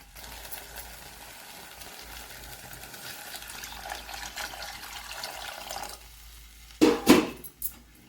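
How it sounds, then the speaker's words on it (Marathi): Water is added to a cooking pot of dal with turmeric, asafoetida and tomato, first a steady rushing pour, then louder splashes and sloshing close by near the end. "याच्यात आपण पाणी घालत आहोत आता"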